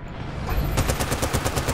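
Rapid automatic gunfire from the video game Bad Company 2, a steady burst of evenly spaced loud shots starting partway in and continuing to the end, with no talking.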